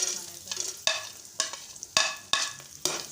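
Nuts frying in ghee give a soft sizzle broken by regular stirring strokes, about six sharp scraping clacks spaced roughly half a second apart, close up with no talking.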